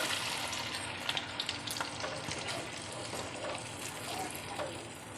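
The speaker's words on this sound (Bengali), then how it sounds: "এবার দিয়ে দিচ্ছি 1 কাপের মতো দুধ।" Milk poured into hot mustard oil for a katla fish curry, a steady sizzle and bubbling hiss with faint stirring clicks, close and continuous with no voice over it.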